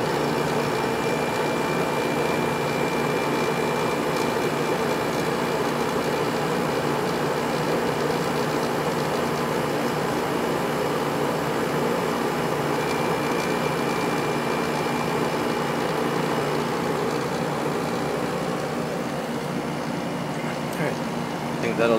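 2007 window air conditioner running with a steady droning hum and compressor rumble, constant and fairly close throughout.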